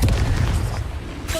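Confringo fire blast spell cast in Hogwarts Legacy, a loud booming burst with rumbling low end that decays over about a second, followed by a brief fresh crackle.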